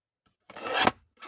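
Scissors cut through thick junk journal paper in one close, rough rasping stroke of about half a second, then a brief second snip starts just after.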